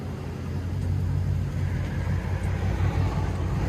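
Chrysler 300 sedan engine rumbling and revving steadily in a deep, loud, continuous drone, close by and fairly constant, with faint voices in the background.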